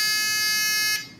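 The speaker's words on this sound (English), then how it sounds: "the little buzzer will go off" A small buzzer on a sensor board sounds one steady, loud, high-pitched electronic tone that cuts off sharply after about a second.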